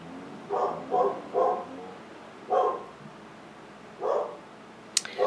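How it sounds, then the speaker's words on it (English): A dog barks indoors, about six separate barks in loose clusters at moderate distance, and a sharp click near the end. "because the dog is barking"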